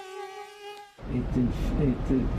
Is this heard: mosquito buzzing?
yes